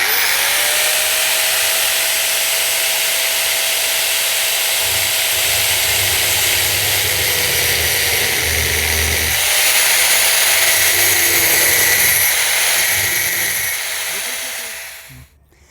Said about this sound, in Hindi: ये जो ग्राइंडर मशीन के साथ इसको अब हम कट